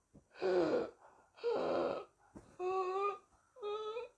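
A voice imitates stridor, the harsh wheezing of an obstructed airway: four strained, noisy inhalations and exhalations in a row, close and fairly loud, with short pauses between.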